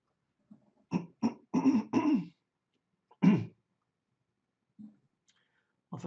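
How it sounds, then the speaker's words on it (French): A person coughs and clears their throat in a short burst of several rough hacks, close and fairly loud, followed by a pause and a couple of fainter throat sounds. "je tousse un peu parce que j'ai trop couru ce matin"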